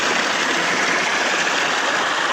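A small river flows steadily at a fishing spot, giving a close, continuous broadband rushing and gurgling of water with no voices over it.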